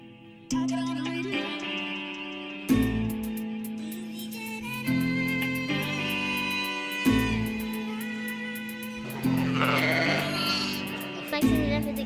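Several loud sheep bleats ring out one after another, close and clear, each a long wavering cry with brief pauses between.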